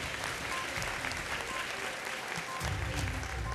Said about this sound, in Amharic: ቀጥላችሁ ደግሞ አጨብጭቡላቸው።